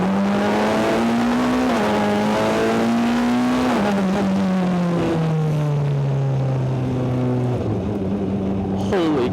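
A BAC Mono single-seater sports car accelerates hard at full throttle on a wet road in the rain, its engine note climbing steadily and loud from close inside the car, pausing briefly at gear changes, with some talk underneath.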